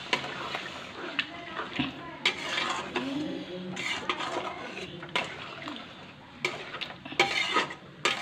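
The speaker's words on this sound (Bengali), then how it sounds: "এবার জল দিয়ে দিতে হবে আড়াইশো গ্রাম ভালো করে মিক্স করে নিতে হবে" Mutton korma is stirred and mixed in a pot after water is added, giving clattering metal-on-pot scrapes and knocks in uneven bursts with a soft background hiss, loud and close.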